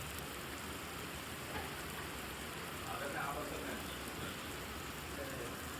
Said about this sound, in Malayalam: നല്ല നാട്ടിൽ പെയ്യുന്ന പോലെ മഴയാന്ന് പെയ്യുന്നുള്ളത് അടിപൊളി മഴ